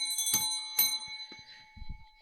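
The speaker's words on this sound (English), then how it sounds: "when you ring the bell?" A bell rings in a few bright, ringing strikes with long decaying tones, followed by a couple of soft low thumps.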